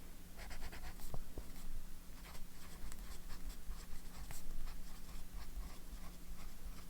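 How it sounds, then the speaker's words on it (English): A fountain pen filled with Diamine Writers Blood ink scratches across paper in soft, continuous strokes with brief pauses, close and quiet against a faint background hum. "Mostly what I want to see is how it writes out of a pen"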